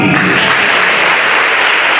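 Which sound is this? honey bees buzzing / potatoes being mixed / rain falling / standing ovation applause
standing ovation applause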